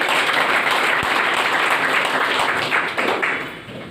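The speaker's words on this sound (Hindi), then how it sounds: "उनके सम्मान में एक जबरदस्त ताली हो जाए" An audience at a celebration event claps in honor of a seated guru, a loud, dense round of many hands with a few sharper nearby claps standing out, fading away toward the end.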